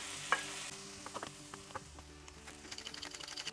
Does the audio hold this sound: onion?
yes